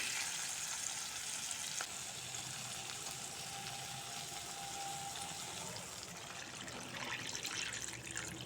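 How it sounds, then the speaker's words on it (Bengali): Cucumber frying with spices in a pan hisses into a loud, steady sizzle as water is poured in, the bubbling crackle holding close and constant throughout. "জল দিয়ে দেব।"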